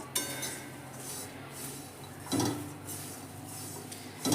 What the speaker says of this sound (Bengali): দেখুন, আমি খুব ভালো করে কিন্তু এটাকে এবার নেড়ে নিচ্ছি।